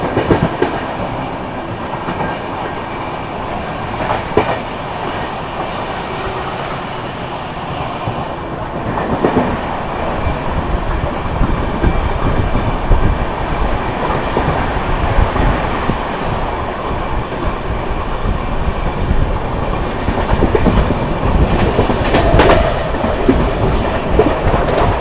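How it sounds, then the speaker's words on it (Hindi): The Jharkhand Sampark Kranti Express runs at speed through Etawah Junction without stopping, a loud, steady roar of wheels and carriages with rhythmic clickety-clack and faint squeals throughout. "अपनी ट्रेन ने जो है इटावा जंक्शन को स्किप कर दिया काफ़ी अच्छी रफ्तार में"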